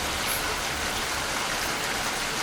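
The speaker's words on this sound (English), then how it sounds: "the rain is gonna give me a shower" Steady, even hiss of heavy rain in the Trainz railway simulator game, falling continuously, a dense wash of noise with no other distinct sounds.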